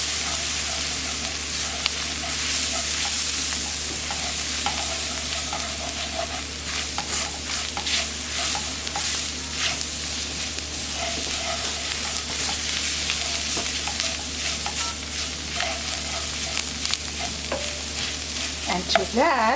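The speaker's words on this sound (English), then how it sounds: "Next, I'm adding my flour. And that's what's going to make the gravy. And you want to stir to remove any clumps." Flour is stirred into sizzling pan drippings to build gravy for Salisbury steak: a steady low frying hiss with repeated scraping and stirring strokes of a utensil against the pan, close and continuous without talk.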